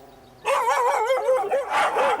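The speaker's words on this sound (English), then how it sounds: "He doesn't bark for nothing." A part-Alsatian dog barks and yelps excitedly at a stranger, a rapid run of loud close barks with whiny edges after a brief quiet start.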